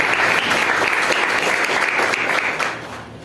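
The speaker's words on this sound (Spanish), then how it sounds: "Dale un fuerte aplauso a la presencia de Dios." A church congregation claps together during a worship service, a loud, sustained burst of many hands applauding that fades a little in the final moment, with no talking heard.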